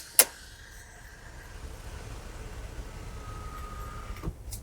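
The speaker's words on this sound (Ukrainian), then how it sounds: "Панорамний дах, бачите, ось так він виглядає. Перевіримо його працездатність на відкриття." A click opens the panoramic sunroof of a 2015 Audi Q7 3.0T Quattro, then a faint, steady electric motor hum runs for about four seconds inside the quiet cabin and ends with a soft thunk.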